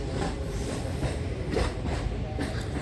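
A passenger train crosses the 1958 Simaria Ghat rail-and-road bridge over the Ganga, a close, steady rumble of wheels with faint rhythmic clatter and occasional metallic squeals.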